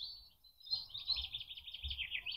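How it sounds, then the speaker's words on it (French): Wild birds sing in a natural outdoor setting: a continuous stream of high, quick chirps and trills at moderate volume, layered over a faint low rumble. "le chant des oiseaux"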